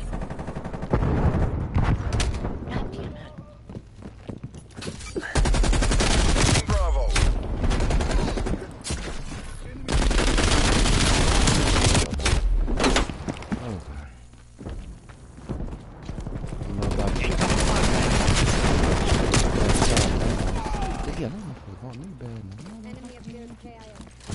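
Rapid bursts of automatic gunfire from a Call of Duty match on the Nuketown map, loud and near, in repeated volleys separated by short lulls, with players talking over the shooting.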